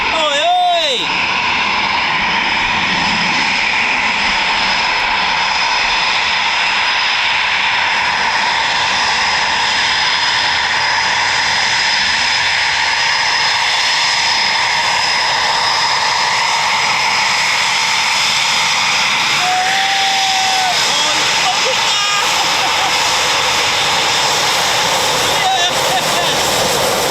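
An RAF Typhoon FGR4 jet in BlackJack ZJ914 display livery flies at an air display, producing a loud, sustained jet roar that dominates throughout, with a person briefly talking over it.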